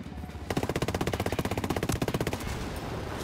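Rapid automatic gunfire in Ghost Recon: Wildlands: one loud, tightly spaced burst of shots lasting about two seconds, close and alone with no talk.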